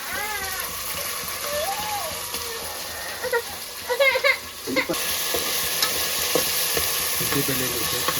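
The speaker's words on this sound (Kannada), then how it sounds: "ಅದು ಹಸಿ ವಾಸನೆ ಹೋಗೋವರೆಗೂ ಫ್ರೈ ಮಾಡ್ಕೊಬೇಕು" Biryani ingredients frying in hot oil for a chicken biryani, with a steady sizzle and intermittent scraping stirs, joined by brief background voices and faint clatter partway through.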